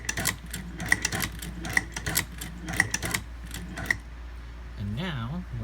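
Muyupai leather patcher sewing machine stitching a leather piece, giving rapid mechanical clicking bursts with sharp ticks, then a brief pause and a lower whirring sweep near the end.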